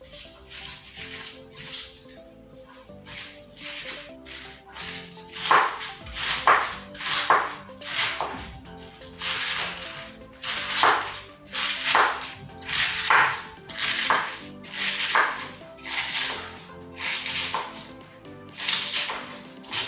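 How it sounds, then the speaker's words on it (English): A knife chops and dices cabbage for coleslaw on a cutting board, in bursts of rapid rhythmic cuts that grow steadier and more regular partway through, close and clear with no talk. "So let's go ahead and cut up and dice our cabbage."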